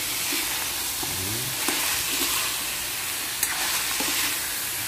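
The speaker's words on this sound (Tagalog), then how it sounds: "So guys, haluin natin." Pork adobo with tomato paste being stirred in a hot pan: constant bright sizzling with soft scraping strokes of a spoon, a few small clinks, close and steady, no talk.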